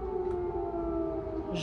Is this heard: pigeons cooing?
no